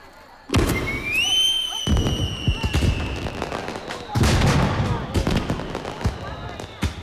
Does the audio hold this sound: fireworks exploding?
yes